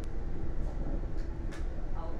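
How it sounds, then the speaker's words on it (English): Fast-moving train rolling along the tracks, a steady broadband rumble and rattle that fills the whole stretch, with faint brief squeals above it and no talk over it. "this train is moving extremely fast"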